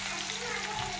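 Onion dropped into plenty of hot oil with mustard seeds and cumin sizzles in a steady, close frying hiss for a brief moment, no voices over it.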